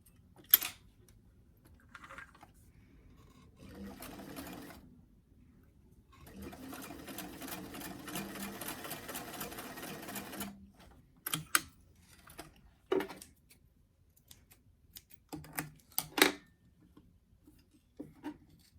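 A sewing machine stitches a seam on a doll dress in short bursts and one longer steady stretch of rapid mechanical stitching, with clicks and handling noises between runs, quiet and nearby.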